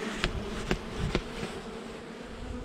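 Honeybees buzzing around a hive at an apiary during an early spring inspection in March, a steady close drone with a few louder bees flitting past the microphone.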